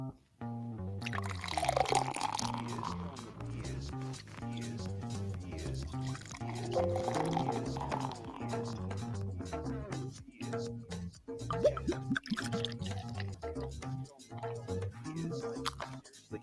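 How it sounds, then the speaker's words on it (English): Beer sitting in a glass fizzes and bubbles quietly in the background, giving soft drips and trickles beneath voices that carry on throughout. "that wonderful sound you can hear in the background is a beer just sitting there bubbling"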